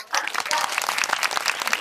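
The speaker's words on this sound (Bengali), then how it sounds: "সবাই হাততালি দাও।" A group of children claps hands during an English vocabulary lesson, producing a quick burst of uneven, close claps, with voices mixed in.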